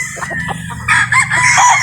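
A bulik rooster crows loudly and close, one long drawn-out call rising in the second half over a low steady hum, with no talk.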